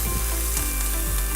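Onion frying in a pan for a chipotle chicken casserole, a brief close burst of steady sizzling crackle with a few soft scraping strokes and no voices.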